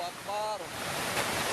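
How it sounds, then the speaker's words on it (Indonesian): Flash flood water from the overflowing Cibuntu River in Cicurug, Sukabumi, West Java, rushing in a dense, continuous roar with wind noise. Faint voices sit underneath. "Harta benda termasuk rumah penduduk yang berada di sekitar Sungai Cibuntu diterjang banjir, hanyut terbawa derasnya air."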